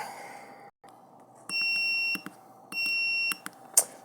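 A buzzer in a MOSFET switching circuit sounds two steady, sustained tones, each lasting under a second with a short gap between, followed by faint clicks and a sharp short chirp.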